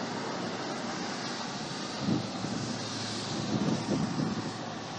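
Several Apache Longbow military helicopters pass overhead in Chesterton, Indiana as a steady, broad engine and rotor roar with wind buffeting, swelling slightly around the middle and end and carrying on throughout.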